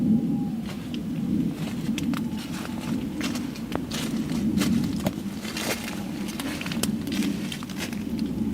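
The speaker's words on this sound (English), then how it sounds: "she was awakened by loud footsteps right next to her tent." Footsteps crunch steadily just outside a tent at a campsite in the middle of the night, close and fairly loud against a constant low rumble of background noise, with no voices.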